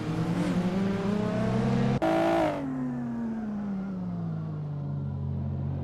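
Retro race cars such as the Renault Clio Williams and Alfa Romeo SZ roar in a racing video game, engines held at steady high revs with a sharp gear change burst midway, then a long falling drone as one passes.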